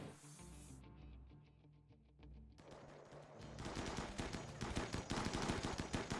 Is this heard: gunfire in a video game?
yes